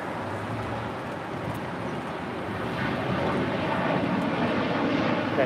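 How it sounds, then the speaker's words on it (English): United Airlines Boeing 787-9 Dreamliner departing LAX, a broad steady jet roar that builds gradually in loudness, heard from a distance with wind noise mixed in. "This is United Airlines 923 departing to London Heathrow on a 787-9 Dreamliner."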